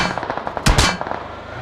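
Gunfire in a shooter video game: a quick pair of loud, sharp shots in the middle, set against faint rhythmic ticking and clatter.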